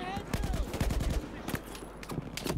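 Battlefield 4 gunfire crackles in rapid close bursts, a dense run of sharp shots followed by scattered single reports, while players talk over the fighting.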